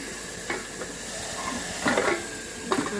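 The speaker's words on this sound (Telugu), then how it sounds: "ఆవిరి పడుతుంది" Steam hisses steadily from a cooking pan of fried tomatoes, a soft, continuous hiss broken by a few brief stirring scrapes.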